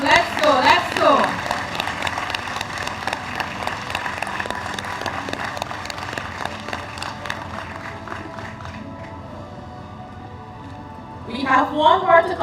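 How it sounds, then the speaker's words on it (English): An audience claps at a vaccination week launch event in Guyana, with sustained, dense applause and crowd noise over roughly ten seconds, and a voice speaking at the start and end. "Another round of applause."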